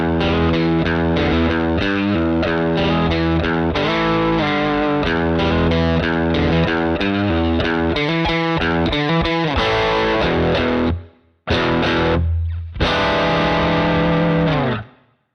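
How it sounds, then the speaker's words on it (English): A 2017 Gibson Flying V T electric guitar in Alpine White, played through distortion: loud, sustained, driven chords and riffs that stop briefly near the end before a final ringing strum. "we'll hear how it sounds clean just a little bit, and then with a little bit more dirt."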